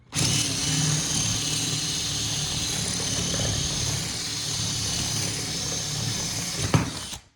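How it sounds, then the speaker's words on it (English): A power drill drilling holes in a countertop template runs continuously at close range, a loud, steady whine that stops abruptly at the end with a short clatter. "Now I'm just going to drill some holes."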